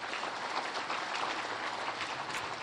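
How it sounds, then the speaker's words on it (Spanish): Steady applause from a crowd at a church celebration honoring a couple's 60th wedding anniversary, a dense wash of clapping that holds evenly throughout without a break. "Un aplauso para ellos."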